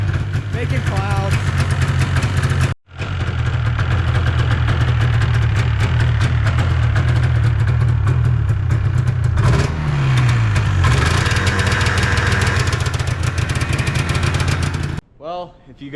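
A 1996 Yamaha Vmax snowmobile engine running after a pull start, a loud close two-stroke idle that drops out briefly, then revs and settles before cutting off near the end.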